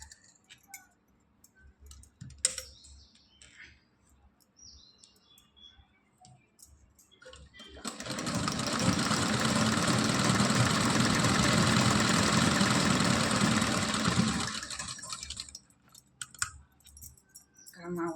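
A domestic sewing machine stitches a blouse at home, running steadily for about seven seconds as a dense, loud whir. Quieter rattles and handling clicks come before and after the run.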